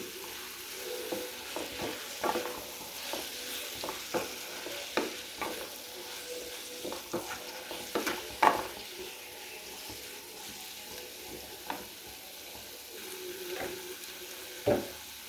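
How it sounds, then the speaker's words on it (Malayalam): Mango and carrot pickle is stirred together with salt, producing soft, close, irregular scraping and mixing taps spread across the stretch, with no voices. "ലേശം ഉപ്പിട്ട് കൊടുക്കാം പൊടിക്കോളാം എല്ലാം കൂടെ ഒന്ന് മിക്സ് ചെയ്യാം"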